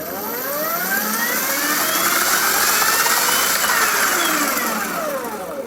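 An electric Oset MX10 dirt bike held at full throttle gives a loud, steady electric whine whose pitch swells and dips across several seconds, with no talking.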